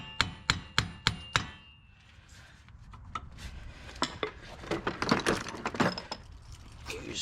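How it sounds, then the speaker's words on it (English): A hammer strikes the front CV axle of a 2007–2013 GMC Sierra 1500 4x4 five times in quick, sharp metallic taps, followed by scraping and clinking of tools against the suspension parts. "All right, use a hammer, tap on this."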